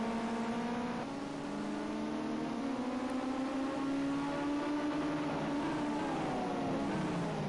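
Ginetta Junior race cars on the Long Beach street circuit, engines droning and shifting pitch as they brake and accelerate through a corner, a continuous loud mechanical whine with no talk.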